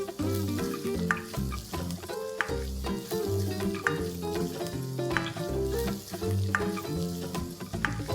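Sliced French beans and finely chopped carrot stir-fried for burnt garlic fried rice, a steady loud sizzle with repeated scraping and tossing strokes over background music, no talking.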